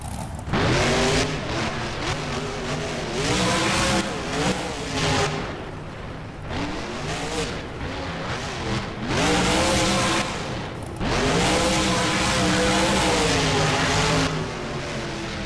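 Monster truck in the BeamNG driving game roaring as it backs up, a loud continuous engine drone with repeated revving surges and pitch sweeps, no speech.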